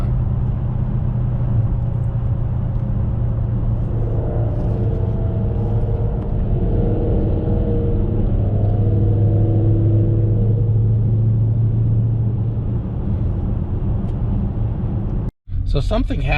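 Steady car engine and tyre rumble from inside a vehicle lapping the banked turns at Darlington Raceway, a constant loud drone with engine tone rising slightly midway, then a brief dropout near the end.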